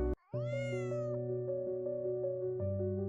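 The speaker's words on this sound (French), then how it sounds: "Il miaule pour t'alerter." A single clear cat meow rises and fades over a steady background hum, after a brief click.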